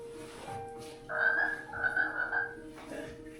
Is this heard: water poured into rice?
no